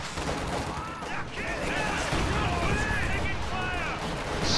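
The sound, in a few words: Stuka dive bomber barrage in a video game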